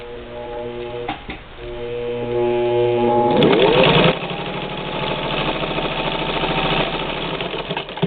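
A 1952 Singer 15-91 sewing machine stitches through Velcro with a loud, steady motor whir and rapid needle chatter that grows heavier partway through and carries on alone.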